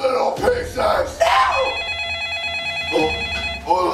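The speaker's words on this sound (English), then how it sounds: "That's my phone." A telephone rings with a steady electronic bell tone, sounding once clearly after some shouting voices in a tense interrogation scene, with speech overlapping at the start and end.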